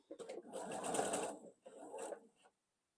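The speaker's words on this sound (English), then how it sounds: "just sew about 1/2 inch on either side of the intersection, taking my pins out as I go" A sewing machine stitches a quilt block seam with pins, running in one steady burst of about a second and a half, then a shorter second run after a brief stop, close and clear.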